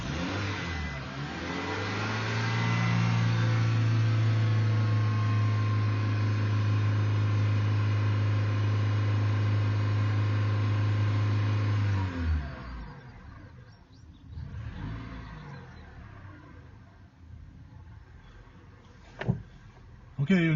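A car engine, just given an intake system cleaning, starts and runs at a raised, steady idle for about ten seconds, then shuts off, leaving quiet shuffling and a couple of knocks.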